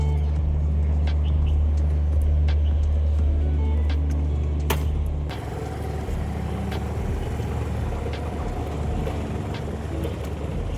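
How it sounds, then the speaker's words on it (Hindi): A car engine after the key goes in: a loud, deep idling drone holds steady, then a sharp click and a shift as the running engine settles into a lighter, rougher hum close by, with no talking. "ये लगाई गाड़ी में चाबी"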